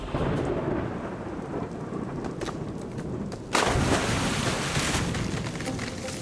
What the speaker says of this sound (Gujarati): આકાશમાં વીજળીઓ કડકવા લાગી.